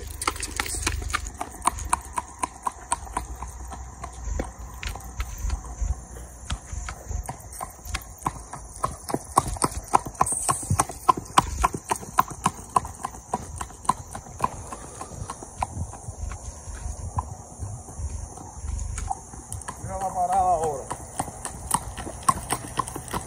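A horse ridden by Colombian horsemen clip-clops in rapid, crisp, close hoofbeats, pausing and resuming as it is brought to a halt every 25 metres. Steady background hiss runs throughout.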